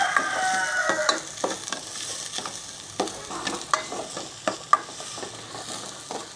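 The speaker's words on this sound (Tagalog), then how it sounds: "Gisa na po natin to. Bawang, luya, sibuyas." Garlic, ginger and onion sautéing in a hot pan, a soft continuous sizzle broken by repeated scrapes and clinks of stirring, with a rooster crowing faintly in the background.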